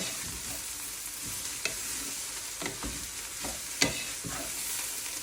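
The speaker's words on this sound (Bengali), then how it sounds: "এখন দিয়ে দিচ্ছি মটরশুঁটি।" Boiled vegetables stir-fry with peas in a pan, a soft steady sizzle broken by repeated scraping strokes and a few sharp clinks of the spoon.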